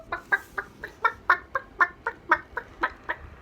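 A voice imitates chickens clucking, giving about fifteen evenly spaced, close, moderately loud clucks in a steady rhythm with no other talk.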